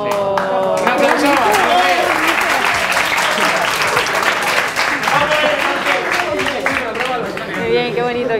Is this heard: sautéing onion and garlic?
no